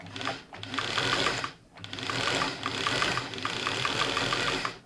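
A Singer 328P sewing machine runs steadily on a newly fitted motor belt, a close, loud mechanical whir with a fast regular clatter of needle and gears, dipping briefly twice as it slows and picks up again.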